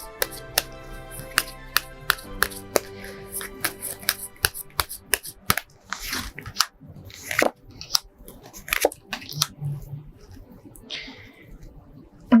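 Tarot cards are shuffled and drawn by hand, with crisp, irregular flicks, snaps and papery slides close to the microphone.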